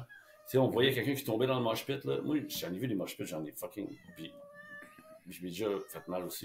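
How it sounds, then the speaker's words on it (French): A cat meows during a casual French-language podcast conversation, its short meows heard intermittently beneath and between loud, continuous talk from several people. "C'est un chat."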